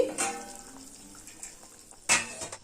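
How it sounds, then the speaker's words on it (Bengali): A lid comes off a cooking pot of light sea fish curry with potato and cauliflower, giving a couple of short metallic clinks, one at the start and a louder one near the end, amid faint simmering. "ঢাকাটা খুলে দিচ্ছি"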